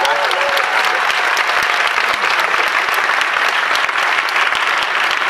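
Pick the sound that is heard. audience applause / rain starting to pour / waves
audience applause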